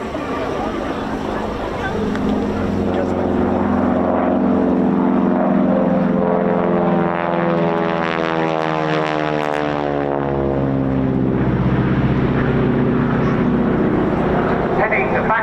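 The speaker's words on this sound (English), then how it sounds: "this aeroplane coming in for its final pass before departing" A Harvard 2B propeller trainer makes its final air show pass, its engine drone rising and falling as it sweeps by close overhead. A commentator talks over the noise throughout.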